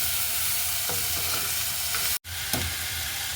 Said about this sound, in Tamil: நாங்கள் வெட்டி எடுத்து வச்சிருக்கிற வெங்காயத்தால் சேர்க்க போகிறோம். சேர்த்து வடிவாக கிளறி விடுவோம்.